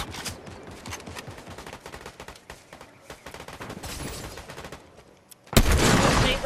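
Fortnite sniper rifle and other gunfire crackles in dense bursts of sharp shots, close and fairly loud, and ends with a sudden louder blast near the end, with no voices over it.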